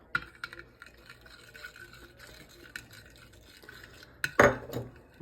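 Marinade mixture for deer heart slices being poured into a pan, quiet clinks and scrapes of utensils building to a short wet splash and slosh near the end, close and fairly soft.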